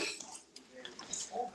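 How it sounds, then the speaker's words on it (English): A metal whisk beating ingredients together in a bowl, quick light clinking and scraping of metal against the bowl, close and fairly quiet. "we're going to whisk this together"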